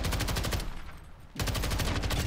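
Rapid, loud battle rifle fire from a shooter video game comes in two dense bursts separated by a brief pause.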